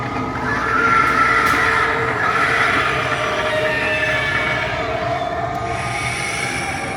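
A subway train animatronic at a Halloween superstore runs its animation, giving a steady rumbling, rolling train-like roar with faint squeals and clicks, loud and continuous from start to finish.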